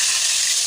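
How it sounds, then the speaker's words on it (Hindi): Beef pieces frying with spices in a pan for Arabic mandi, giving off a steady, loud, close sizzle that hisses evenly without a break. "अब मैं बीफ का टुकड़ा भून लूँगी।"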